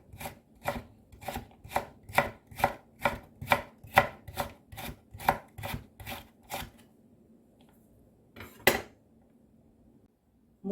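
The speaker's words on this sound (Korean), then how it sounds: "먼저 이렇게 썰어준 다음 약간 도톰하게 채를 썰어서 준비할 거예요." A knife chops radish into thick strips for kimchi on a cutting board, a steady run of about fifteen crisp, evenly spaced chops, then a pause and one last sharp cut, close and clear.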